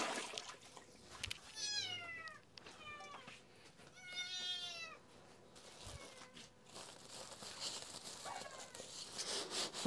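A hungry cat meows repeatedly and insistently, several clear drawn-out cries close by, with rustling and household background noise between them.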